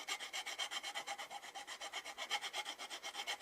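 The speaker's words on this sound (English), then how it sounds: "So what I'm going to do is I'm going to file that down." A hand file rasps steadily back and forth on a Harley-Davidson XG 750 Street motorcycle exhaust baffle part, about eight even scraping strokes per second, close and fairly quiet with no talking.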